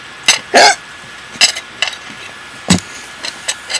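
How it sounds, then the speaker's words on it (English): A person hiccups several times while eating and chatting, a few short, sharp throaty jerks spaced irregularly, heard close and fairly loud against a quiet room. "I hate it when I hiccup at work"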